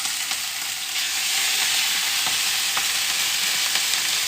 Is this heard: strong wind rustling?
no